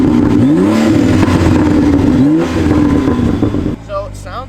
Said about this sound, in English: Let's get some rev shots.